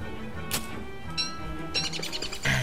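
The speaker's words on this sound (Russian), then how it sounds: "Птичка что улетела. А это фишка такая, что они улетают." A bird in the game Don't Starve startles and flies off, giving a few short, bright chirps and flutters over a steady low background hum.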